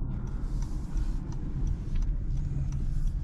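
A Honda ZR-V driving on a road, a steady engine hum and tyre rumble from inside the cabin with faint clicks, no talk.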